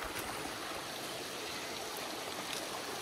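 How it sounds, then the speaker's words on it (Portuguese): Rushing water from a stream's rapids in the dry season, a steady broadband wash with no voices. "Olha a corredeira de água, gente."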